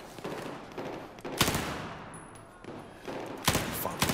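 Bursts of rapid automatic gunfire in Battlefield 4 come in loud, dense rattles with short gaps between them, close and continuous across the stretch, with no talking.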